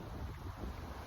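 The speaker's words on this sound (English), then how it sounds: "Beautiful windy day." Wind rumbles low and steady against the microphone, quiet and continuous with no voices.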